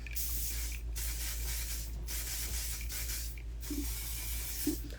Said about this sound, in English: Now we'll spray it.